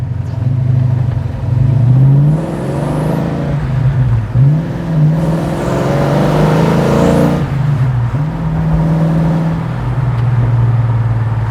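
Car engine after a FiTech fuel injection conversion replacing a carburetor, revving up and down repeatedly with loud, close rising and falling engine pitch, steady idle between revs and no backfiring.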